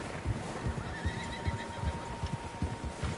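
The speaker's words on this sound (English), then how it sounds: "Horses, quite a few of them." Horses neigh and whinny in Red Dead Redemption 2, several loud calls rising over a steady background of clip-clopping hooves and low ambient rumble, with no talk.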